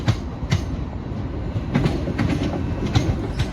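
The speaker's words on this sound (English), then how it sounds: "there goes the delayed 12:26 Great Western Railway service to London Paddington from Swansea" A Great Western Railway train, unit 800-019, rolls past close by with a steady run of rhythmic wheel clicks over rail joints above a rumbling roar, with no voices.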